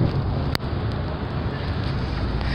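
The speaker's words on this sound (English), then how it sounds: "let's get away from the wind" Wind buffets a microphone outdoors, a loud, continuous low roar and rumble with one sharp pop early on, filling the whole stretch without a break.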